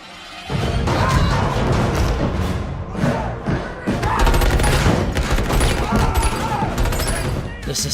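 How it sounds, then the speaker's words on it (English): Gunfire in a dark DC superhero movie fight scene, dense bursts of rapid shots and heavy impacts mixed with crashes and a loud score, with voices heard in the mix. "Batman walking to the gunfire was so cool"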